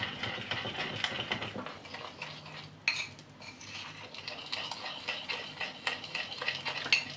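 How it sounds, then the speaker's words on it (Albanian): A spoon stirs powdered sugar and orange juice into a glaze in a bowl, a steady soft clinking and scraping that runs close and fairly quiet throughout, with no voices. "Brenda të sheqeri pluhur, do shtojmë lëngun e portokallit dhe do ta trazojmë mirë që ta ndihmojmë që të shkrihet sheqeri"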